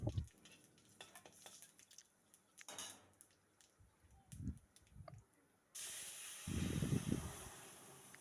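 Lentils are poured into a pot of vegetables frying with bay leaf and panch phoron for mixed vegetable moong dal, a soft rushing pour after scattered clinks and scrapes of utensils, ending in a loud, steady sizzle.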